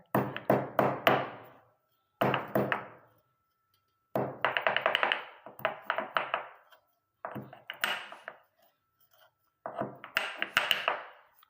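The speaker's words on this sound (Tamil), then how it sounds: "இந்த மாதிரி இடிக்கல்லில் போட்டுட்டு லைட்டாக வந்து தூள் பண்ணிக்கோங்க" Cloves are pounded in a stone mortar, sharp knocking strikes in quick clusters of four or five with pauses between, loud and close with no talking.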